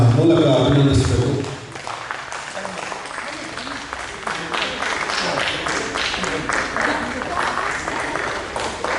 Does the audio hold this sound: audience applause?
yes